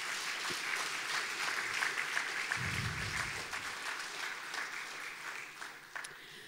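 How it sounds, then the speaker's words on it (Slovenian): Audience at a charity concert for abandoned animals in Koroška applauding, a steady wash of clapping that holds for several seconds and then fades out gradually. "Aplavz še za te prijazne zdravnike."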